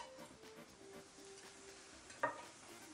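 Thin garlic slices fry in a pan with a faint, steady sizzle, broken once by a brief metallic clink of a utensil against the pan.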